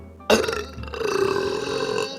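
A woman lets out a loud, sudden burp that stretches into a long, drawn-out belch, close to the listener and heard alone.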